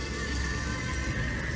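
Strange pig creatures in the horror game Amnesia: A Machine for Pigs give off steady, loud grunting and whinny-like squealing cries, a continuous animal din with no talk.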